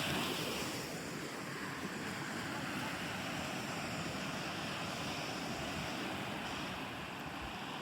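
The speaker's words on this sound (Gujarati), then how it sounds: "જો સામે આ મોજું આવી રહ્યું છે." Steady roar of sea surf rolling in, broad and continuous, with some wind buffeting the microphone throughout.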